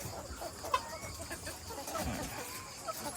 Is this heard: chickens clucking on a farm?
yes